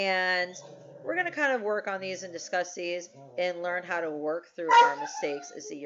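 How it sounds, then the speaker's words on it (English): Dogs bark and yip in the background while someone talks steadily over them, the barking partly masked by his voice. "So sorry for the barking dogs"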